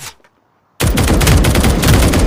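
A gun in a first-person shooter lands a headshot kill, erupting after a brief silence into a loud, rapid burst of close automatic gunfire that rattles on continuously.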